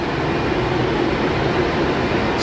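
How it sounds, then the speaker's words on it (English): Exhaust fans roar steadily in a powder coating shop, a loud, continuous broadband rush with a low rumble underneath, unchanging throughout and with no other sounds on top. "that's all the exhaust fans for the day"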